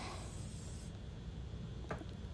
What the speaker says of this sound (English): so you don't need to spray the whole pan